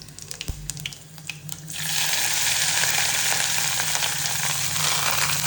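Mustard seeds, curry leaves, green chillies and coriander hit hot oil in a pan, starting with a few clinks and taps, then bursting into a loud, steady sizzle and crackle that holds to the end.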